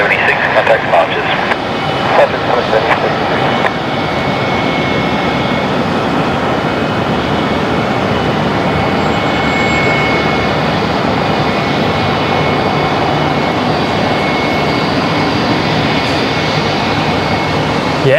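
Airliner at Brisbane Airport at sunset, a loud sustained jet engine roar that holds steady throughout, with a voice briefly heard early on.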